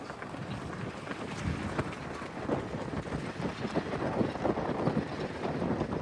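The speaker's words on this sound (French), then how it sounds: "Il y a du vent, hein." Wind gusts outdoors around a flagpole, a rough broadband rush that buffets the microphone and swells and eases over several seconds, loud and close, with no talk.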